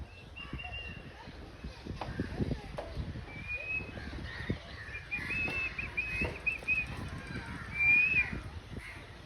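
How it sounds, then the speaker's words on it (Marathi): Parrots in a small bird sanctuary chirp in faint, scattered calls beneath nearby shuffling and movement noises. "पोपट आहेत, पोपट"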